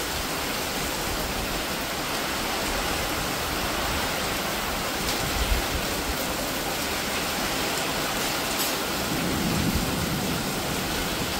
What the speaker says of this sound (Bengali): এলোপাথারি ঝড় দিয়ে বৃষ্টি শুরু হয়ে গেছে।